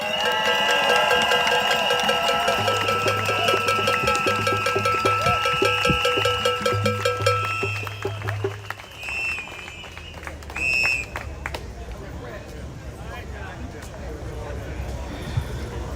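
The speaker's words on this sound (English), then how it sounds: "give another round of applause for our Reverend Haggler" A rally crowd at a street march in Washington DC claps and cheers for Reverend Haggler, broad applause under amplified talk and tones, thinning partway through as outdoor noise and voices continue.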